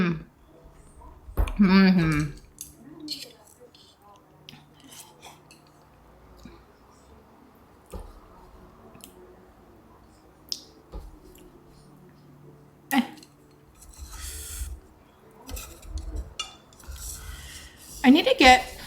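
A pot and its lid are handled in a home kitchen, with loud metallic clanks and rattles at the start and end and softer knocks between, while a person talks.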